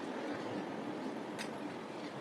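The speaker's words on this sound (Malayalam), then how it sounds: "കയറി വരുന്ന ട്രെയിനിൻ്റെയും വണ്ടിയുടെയൊക്കെ സൗണ്ടാണ് കേട്ടോ കേൾക്കുന്നത്" A train passes on a railway track close to a road, producing a faint, steady rumbling roar with a brief higher-pitched squeal partway through.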